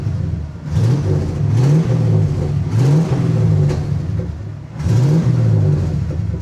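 A pickup truck engine, its computer recently unhooked and relearning, runs close by, revving up in several repeated bursts between idle stretches, loud and steady, with no talking.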